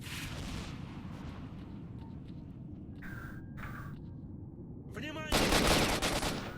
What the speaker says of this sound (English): It's different shooting noises.